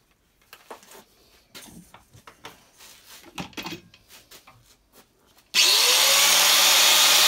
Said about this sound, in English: I can drill the holes to go through the pedal box first of all.